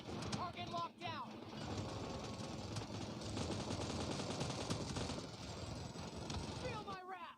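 Rapid automatic gunfire from a PUBG match, dense continuous bursts filling the whole stretch at high loudness, with a game announcer voice speaking briefly at the start and end.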